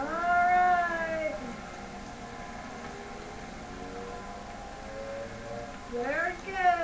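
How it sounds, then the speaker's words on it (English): A civil defense siren wails with rising and falling harmonic tones at the start. It fades to a low, steady background for several seconds, then swells into another rising sweep near the end. "well, that was the siren."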